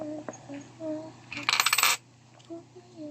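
A handful of coins, fifteen pesos in change, drop and jingle together in one brief clattering burst, close by, between quiet stretches with faint background voices.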